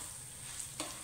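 Coriander powder being stirred into masala in hot oil gives a steady, soft sizzle, with a single brief scrape of the spoon near the end.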